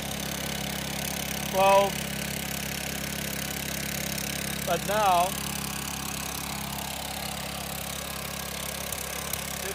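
A generator engine infused with plasmoid runs at a steady, even idle, a constant low hum throughout, with someone briefly speaking over it.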